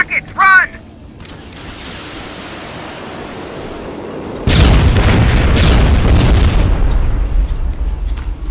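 Rocket explosions in Terminator: Resistance, a sudden loud, deep boom followed by a sustained rumbling roar and crackling debris after a quieter stretch of low ambient noise and a brief electronic chirp.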